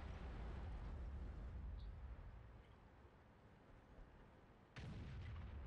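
A tank cannon in the game World of Tanks fires one loud, booming shot that ends a stretch of low rumbling battle noise, with a fainter impact earlier.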